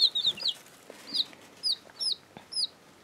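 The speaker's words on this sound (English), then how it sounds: "Taco is a blue Polish chicken, which means that she will have an afro" A blue Polish chicken gives a series of short, high clucks, about six or seven spaced calls over a few seconds, close and distinct against a quiet background with no talking.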